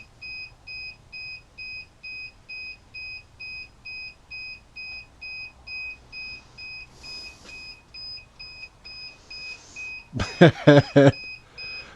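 A duck egg incubator alarm beeps steadily in a regular on-off pattern, two high pure tones pulsing repeatedly, followed by a brief loud burst of clatter near the end.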